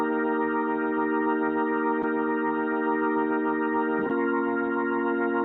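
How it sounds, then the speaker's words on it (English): A Hammond B3 organ played through a rotary speaker holds sustained chords with a swirling, wavering tone. The chord shifts about four seconds in, and the organ continues alone, close and steady. "The rotary speaker was giving that signature vintage sound."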